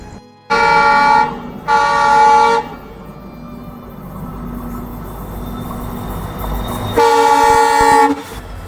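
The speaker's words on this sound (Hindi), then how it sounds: "इस लाइन पे भी सिग्नल अभी ग्रीन है, तो इधर भी कोई ट्रेन आ रही है।" A train on a railway main line sounds its horn in two loud sustained blasts, then rumbles past steadily under the hum of the line before a third long horn blast, close and powerful.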